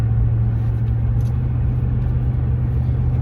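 Car traffic on a road in the early morning, a loud, steady low engine rumble from passing vehicles heard from inside a car, with a constant drone throughout.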